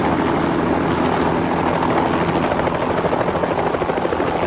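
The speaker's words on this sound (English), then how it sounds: "The dangerous marriage between helicopters and power lines is made to save money and time." A helicopter used for live power-line work, its rotor chop and engine roar continuous and loud throughout, filling the whole scene without any talk.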